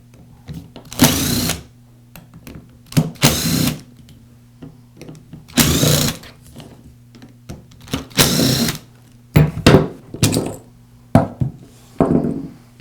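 Screws being backed out of the gearbox housing of a Makita angle grinder during a field replacement repair, heard as several short separate bursts of a power driver whirring against a steady low hum, with no talking.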